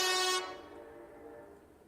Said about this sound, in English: There's a train going off in the background.